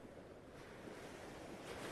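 Sea waves wash steadily against a sandy beach, a soft continuous rushing surf, faint and distant, with a breath of wind and no voices.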